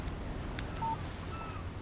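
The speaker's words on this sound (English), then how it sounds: "Text message from Barry." A short, clean electronic beep from a mobile phone signals an incoming text message in the video game Alan Wake, sounding once alone over a low ambient background.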